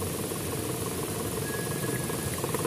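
A gasoline car engine idling while being revved and lifted to check for misfire and vibration, a steady rumbling hum with a faint whine, close and continuous.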